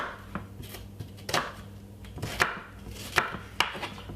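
A knife chops half a white onion on a board for potato salad, giving about eight sharp, irregularly spaced cuts close by with no talking.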